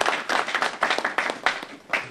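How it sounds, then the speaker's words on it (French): Applause at a summit of African decision-makers in a Paris hotel: a modest group clapping in uneven bursts that rise and fall over two seconds, moderately loud, with no voices over it. "Je tiens à ce que vous l'applaudissiez."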